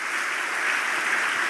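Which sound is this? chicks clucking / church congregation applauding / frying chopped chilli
church congregation applauding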